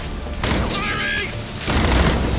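Gunfire from armed enemies during a Batman: Arkham Origins fight, two loud sustained bursts of rapid shots separated by a brief lull, with shouting voices mixed in behind.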